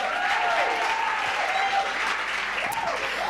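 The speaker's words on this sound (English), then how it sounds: "Give them a round of applause." A summit audience gives a brisk round of applause, dense and continuous, with a faint voice or tone riding over the clapping.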